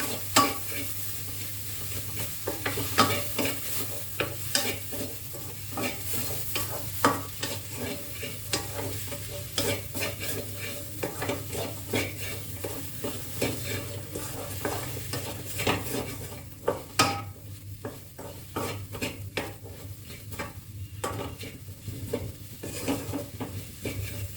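Chopped tomatoes fry and sizzle in a pan for a Malayalam green peas and mushroom curry, with a utensil stirring and scraping in steady irregular strokes and light clinks against the pan throughout, close and clear with no talk.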